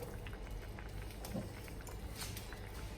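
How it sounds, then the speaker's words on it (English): Broth with lentils boils in a pot, a steady soft bubbling and gurgling, close and fairly quiet, with small pops scattered throughout. "this has come to a boil, so what I'm going to do now is I'm going to add my lentils into here"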